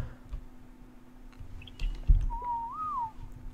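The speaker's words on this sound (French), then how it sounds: "normalement, je l'ai sifflé sur moi" A single short whistle command in ARK Survival Evolved calls a tamed creature back: a clear rising-then-falling tone over faint game ambience and light clicking.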